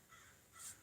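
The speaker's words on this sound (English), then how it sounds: "The crows are outside making noise." Crows caw outside, a single faint, distant call heard alone against quiet room tone.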